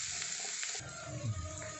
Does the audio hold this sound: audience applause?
no